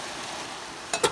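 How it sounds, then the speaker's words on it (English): Ground beef fries in a pan with a steady close sizzle, and a utensil scrapes and taps twice against the pan as the meat is stirred. "So chopped up some onions and pepper tops and frying up some ground beef."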